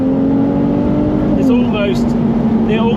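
A Ferrari 296 GTS V6 engine hum drones loudly and steadily close by, with the pitch shifting slightly as it revs, while voices talk faintly over it.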